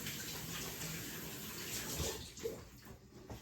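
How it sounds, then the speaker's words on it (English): Tap water gushes steadily into a sink while hands are rinsed under it, a close, broad splashing rush that softens and breaks up slightly toward the end. "Wash off my hands."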